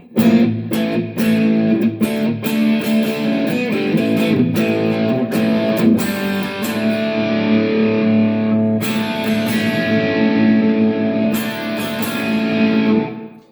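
An electric guitar plays through a Valeton GP-100 Tai Chi Overdrive effect, crunchy chords struck in bursts and let ring, loud and up close, with no talking.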